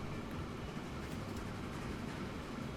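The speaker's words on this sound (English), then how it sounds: "just whilst this train gets out of our way" A train rumbles past in the Transport Fever 2 simulation, a low, steady, broadband roll with a faint rhythmic rattle, quiet and continuous.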